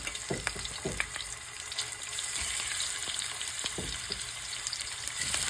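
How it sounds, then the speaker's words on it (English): Oxtails browning in a skillet give a continuous close sizzle, with a few knocks and clatters as pieces are set down in the pan, and nobody speaks. "we're ready to start browning our oxtails. So we're just going to take them and place them in the skillet"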